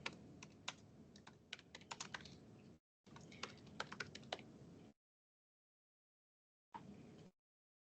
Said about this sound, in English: I keep typing on the keyboard down here instead of my laptop on accident.